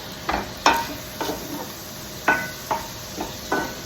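Beef cooking in a pan sizzles steadily underneath a series of sharp spatula scrapes and taps, about eight short strokes at an uneven pace, close and moderately loud.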